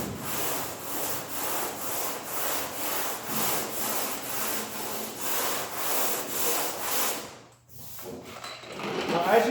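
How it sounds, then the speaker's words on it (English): Rhythmic back-and-forth scraping of 120-grit sandpaper by hand on a Dodge Dart car door, steady strokes close by, stopping briefly before rougher rubbing resumes. "I'm sanding it."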